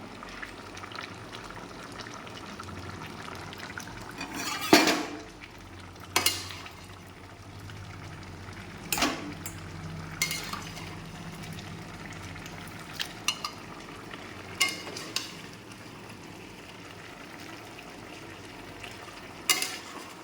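Chicken curry simmering in a pot with a soft continuous bubbling sizzle, broken by occasional scrapes and clanks of a spoon stirring against the pot, close and moderately quiet.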